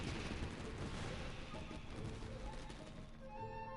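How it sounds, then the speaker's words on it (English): Firework crackling and popping in Genshin Impact, a dense, continuous spray of sharp bursts and crackles filling the clip at steady loudness, with faint tonal game music rising near the end. "This is turning into a bit of a fireworks display!"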